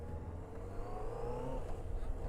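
A motorcycle engine revs up and accelerates during a ride, a faint rising whine and hum over low road noise, heard alone without talk.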